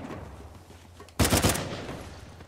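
A gunshot blast in the video game Uncharted 4 erupts suddenly after a quiet stretch, followed by a short burst of crackling shots and a lingering rumble, loud and close with no talking.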